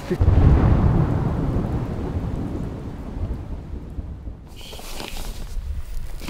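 Low thunder rumbles loud and close from an approaching storm at a wilderness campsite on an Arctic expedition, rolling continuously and slowly fading, with faint rain hiss and no talk.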